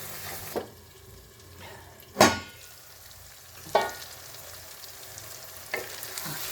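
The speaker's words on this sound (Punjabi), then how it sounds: "ਆਪਾਂ ਮਸਾਲਾ ਨਾ ਇਹਦੇ ਵਿੱਚ ਸਵਾਰ ਕੇ ਭੁੰਨਾਂਗੇ ਨਾਲੇ ਆਪਾਂ ਨੂੰ ਛੋਲੇ ਹੋਰ ਭੁੱਜ ਜਾਣਗੇ" Masala and black chickpeas roasting in a pan: a constant sizzle broken by a few sharp scraping stirs of a spoon against the pan, with no voices.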